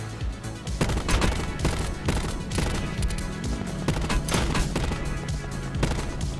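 Rapid long-range gunfire in a video game, with dense overlapping shots and bursts crackling continuously and loudly at an uneven rhythm throughout.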